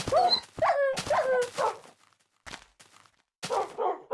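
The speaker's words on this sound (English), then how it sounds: "Poor puppies, are you hungry?" Minecraft wolves whimper in a series of high, sliding whines with short gaps between them, fairly close and without talk.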